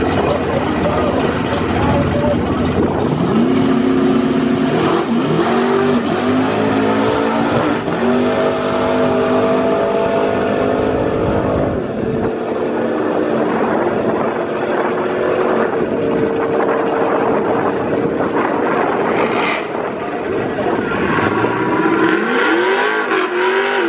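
A truck engine roars through a quarter-mile drag run, loud and sustained, with rising revs and gear changes over the pass and continuous road and wind noise.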